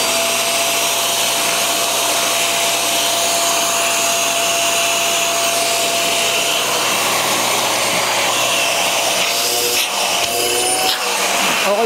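An 18L vacuum cleaner runs continuously during testing, a loud steady roar with a constant whine, close up, shifting slightly near the end as the nozzle moves.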